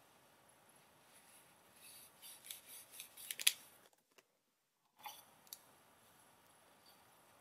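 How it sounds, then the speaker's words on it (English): Scissors trim paper edges, snipping several times in a quick run of crisp cuts, then a brief silence and a couple more faint snips. "And I'll just use some scissors to trim up the edges"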